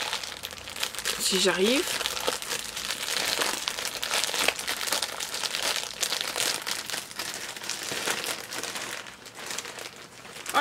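Plastic packaging around a t-shirt from a monthly subscription box being torn open, with steady crinkling and rustling throughout under a French-speaking voice.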